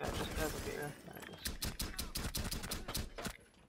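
Gunshots in the shooter Terrorist Hunt, a rapid run of sharp, fairly faint cracks following a murky stretch of game noise, with some talk mixed in.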